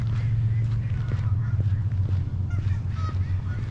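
A few honking geese call intermittently at mid distance over a steady low rumble, with possible faint voices underneath, near a wetland in Calgary on New Year's Day.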